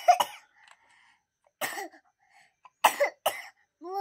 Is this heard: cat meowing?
no